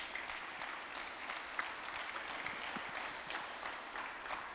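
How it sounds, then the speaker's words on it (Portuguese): Congregation at a Thursday church service applauding steadily, a dense even wash of many hands clapping at moderate distance with no speech over it. "Palmas para Jesus."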